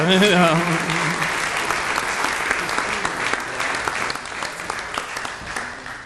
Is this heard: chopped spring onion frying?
no